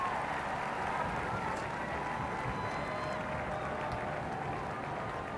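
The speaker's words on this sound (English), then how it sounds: "The armed forces giving a round of applause." Armed forces at the coronation of King Charles III give a round of applause, a steady wash of distant clapping from a large crowd outdoors, soft and even throughout.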